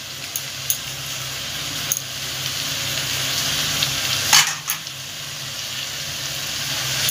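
Ginger sautés with spices in a pan for a chicken dish, giving a steady close sizzle and frying hiss. A few stirring scrapes and clicks come through, with one louder scrape near the middle.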